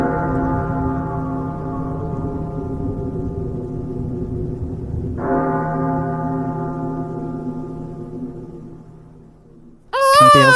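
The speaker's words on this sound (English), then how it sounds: "Some bells here ringing." Deep, resonant bells ring with long sustained overtones, one strike decaying before a second stroke renews the tone midway, then fading out before a brighter tone cuts in at the end.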